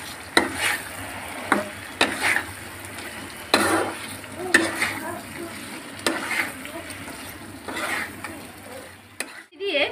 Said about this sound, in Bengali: ব্রেস্তার পেস্টটা করে রেখেছিলাম সেটা দিলাম, দিয়ে ভালো করে নেড়ে নেব।